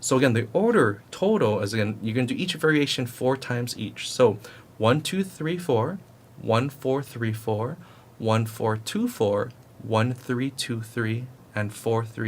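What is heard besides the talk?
No everyday noises stand out.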